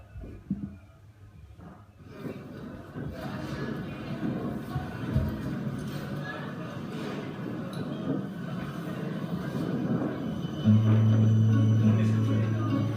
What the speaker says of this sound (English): so I'm trying to bring the train and tram to you